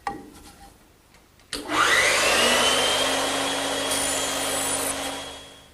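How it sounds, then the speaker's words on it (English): A band saw winds up with a rising whine, then bites into a 2x4 wooden tenon with a loud, steady rasping cut that holds for several seconds, close by, with no talking. "but the band saw is just quicker."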